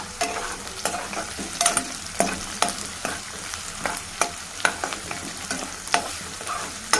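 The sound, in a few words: onion and green chillies frying in oil in a pan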